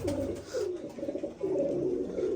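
Soft, low pigeon cooing rolls on in steady, throaty phrases, fairly close, with no talking.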